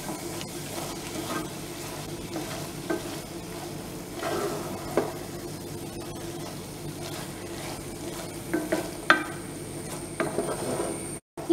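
Carrot halwa with cashews and raisins stirred in a pan, producing a low steady sizzle broken by intermittent scraping and tapping of the spoon against the pan, moderately quiet and close.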